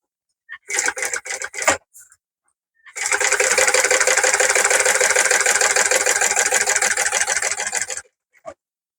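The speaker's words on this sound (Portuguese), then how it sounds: "Agora eu vou passar uma costura na beirada." A sewing machine stitches a seam along a fabric edge. A few short stop-start bursts come first, then a long steady run of rapid, close mechanical clatter that stops abruptly.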